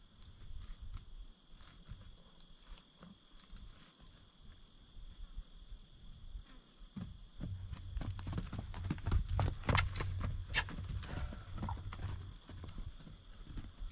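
A horse canters, its hooves thudding on the ground in a rhythmic run of beats that grows louder midway, with crickets chirping steadily in the background.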